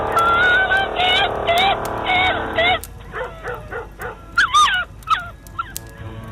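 A dying dog whimpering and yelping in high, wavering cries, first a run of rapid repeated yelps, then sparser strained whines, close and loud, with a voice talking over parts of it.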